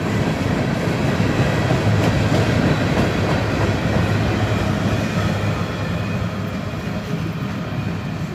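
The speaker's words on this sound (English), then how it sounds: "CSX manifest with two SD40s." A CSX manifest freight train led by SD40 locomotives rolls past close by, with a loud continuous rumble and clatter of wagons on the rails that stays steady throughout and eases slightly toward the end.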